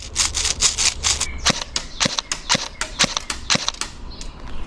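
A Novritsch SSE18 airsoft electric gun fires full auto in about a dozen sharp, evenly spaced cracks over several seconds, each pop loud and close against a steady background hiss.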